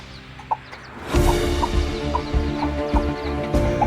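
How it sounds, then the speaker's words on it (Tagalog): Two-day-old wild labuyo chicks peeping in short, bright repeated chirps over a steady low hum of background noise, several small calls scattered across the scene at close range. "Ito yung mga labuyo ko."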